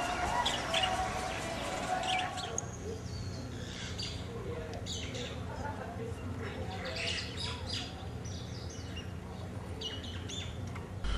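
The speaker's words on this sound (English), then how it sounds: "the palm trees contained birds that were singing all the time" Birds chirp and sing intermittently in palm trees in the background of a steady outdoor ambience in Waikoloa, Hawaii, with calls scattered throughout and never very loud.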